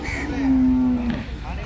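A single HF dairy cow moos once, a long low steady call lasting about a second, close by with faint background noise.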